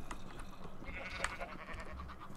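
Sheep in the video game Minecraft bleat a few times over a busy low background, with one sharper cry near the middle and no voices over it.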